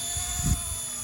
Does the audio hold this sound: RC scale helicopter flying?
yes